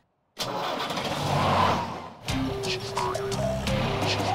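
A cartoon vehicle's engine in Oggy and the Cockroaches bursts on after silence and runs loudly, then settles into a lower, steady hum with tonal whines on top.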